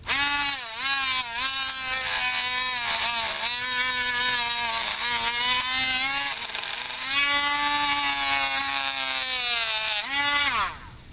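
A power tool cuts a plastic Nerf Nite Finder blaster coupler part with a loud, continuous high motor whine whose pitch dips and recovers as it bites, then stops at the end.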